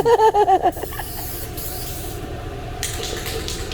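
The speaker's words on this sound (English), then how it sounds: "It's just some spray paint." A steady, close hiss from an aerosol spray paint can painting a 1996 Cadillac Fleetwood lowrider, running for several seconds after a brief tonal sound at the start.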